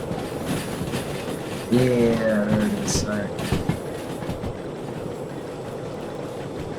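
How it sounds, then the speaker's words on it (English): A train in the Derail Valley railway simulator game rumbles steadily with a long, rising horn-like tone partway through, while someone speaks briefly over it. "Now this is a long boy train, so that's one thing I keep forgetting because this is really light."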